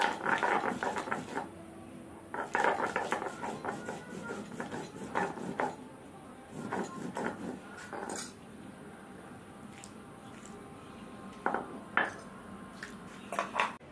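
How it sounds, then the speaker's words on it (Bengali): Green chillies being ground into a paste, heard as close clusters of knocking and scraping strokes in uneven bursts separated by quieter pauses. "কাঁচা লঙ্কাটা বেটে নেব"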